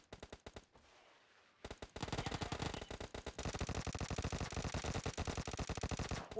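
Rapid bursts of video game gunfire, with a near-continuous stream of loud automatic shots after a short quiet gap and no talk.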